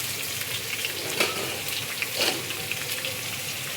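Onions frying in a pan for pilaf give a loud, dense, continuous sizzle with a couple of brief scraping surges, and no voices.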